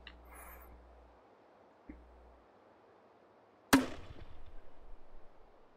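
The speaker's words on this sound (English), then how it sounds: "Let's try a smoke grenade so we can see." A smoke grenade launched from a grenade launcher in the VR game Hot Dogs, Horseshoes & Hand Grenades gives one sharp, loud pop, followed by a rough, hissing, crackling tail that trails off. Two faint thumps come before it against a quiet background.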